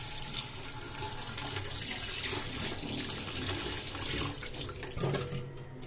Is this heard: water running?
yes